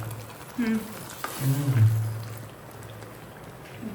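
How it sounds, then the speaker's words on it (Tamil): Bubbling and sizzling in a pot as semolina is stirred into boiling water, with scraping and low gurgling close by and faint voices in the background. "கொதிக்கிற தண்ணிக்குள்ள இது என்ன ரவையா"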